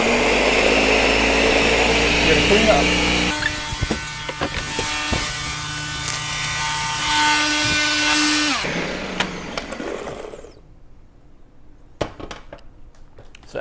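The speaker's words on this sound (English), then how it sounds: "we're gonna throw it in the blender." A countertop blender whirs loudly as it mixes a protein shake with ice, a steady, high-pitched motor roar that runs for several seconds and then stops, with brief speech before and after.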